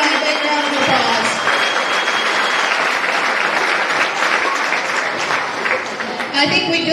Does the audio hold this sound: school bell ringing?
no